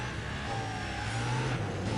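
A car engine in a Need for Speed racing game drones and revs steadily, loud and continuous, with a low throaty tone that rises and falls slightly as the car is driven, with no talking over it.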